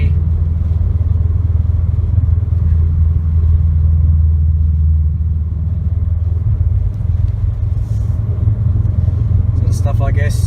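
A 2017 Subaru WRX STI fitted with an Invidia R400 cat-back exhaust cruises on a moderately busy road, giving a steady, loud, deep exhaust drone throughout with a brief clatter near the end.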